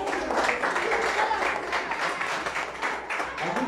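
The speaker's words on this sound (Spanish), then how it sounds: "Aplausos fuertes para el licenciado Santiago Domingo Montejo." Audience applause for a judge at a kite festival in Jacaltenango, moderate clapping that swells and dips, with voices mixed in.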